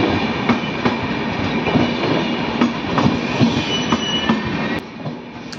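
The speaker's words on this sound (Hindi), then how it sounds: "हमसफर एक्सप्रेस, प्रयागराज हमसफर।" Prayagraj Humsafar Express running on rails, with a steady loud rumble and repeated rhythmic wheel clacks over the track joints. Faint squeals of metal on metal come through, and the noise eases slightly near the end.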